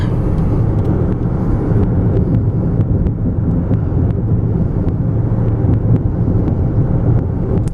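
Cabin of a 2013 Hyundai Sonata GLS cruising at about 60 mph: a loud, steady low rumble of road and wind noise, broken by small ticks and bumps, with no talking.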